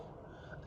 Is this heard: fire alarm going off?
no